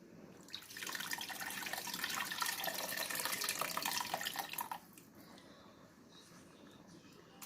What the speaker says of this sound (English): So here goes our tamarind water.